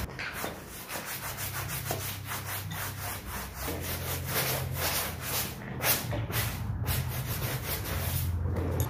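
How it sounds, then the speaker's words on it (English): A brush scrubs the interior upholstery of a 2007 Suzuki Swift Sport in quick, repetitive rubbing strokes, steady and fairly soft throughout. "Need to scrub them all."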